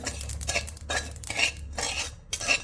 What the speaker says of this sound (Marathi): धने खसखस भाजून घेऊया